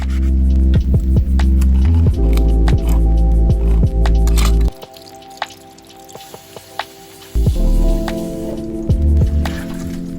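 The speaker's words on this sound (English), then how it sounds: "Heat up some oil with minced garlic before I add the stir-fry paste into the pan." Oil and minced garlic heat in a pan before Szechuan stir-fry paste goes in, giving loud, scattered crackles and pops over a steady low hum, briefly dropping quieter midway, with no talking.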